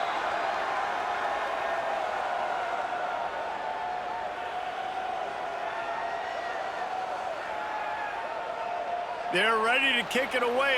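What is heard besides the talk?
stadium crowd buzzing in College Football 26 video game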